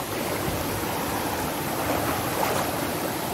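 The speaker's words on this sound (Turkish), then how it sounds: "Akıntı da mükemmel." Strong stream current rushing steadily around legs while wading across a mountain stream at Fırnız plateau in Kahramanmaraş, a dense, loud, continuous roar of flowing water filling the whole moment, with no talking.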